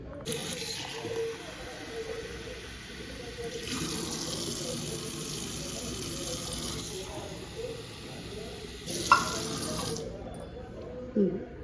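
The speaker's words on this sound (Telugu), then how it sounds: "వేసేసి ఇప్పుడు ఏం చేయాలంటే వాటర్ పోసుకోవాలి మనం" Water pours into a cooking pot for a toor dal and greens curry, a soft, steady trickling stream with occasional clinks of the vessel, faint and close.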